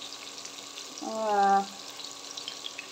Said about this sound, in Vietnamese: Mình chiên cái đậu hũ này mình dặn lửa nhỏ thôi ha